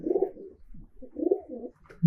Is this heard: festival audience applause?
no